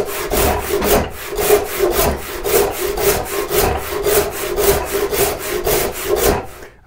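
Steady back-and-forth strokes of a hand saw resawing a wooden board for a tool tote bottom, close up and rhythmic, about two strokes per second, with no talking.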